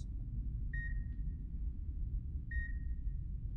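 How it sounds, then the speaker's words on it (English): Medical monitor beeps in a video game, two faint high beeps a couple of seconds apart, each with a short fading tail, over a low rumbling background. "the medical beeps are making me nervous"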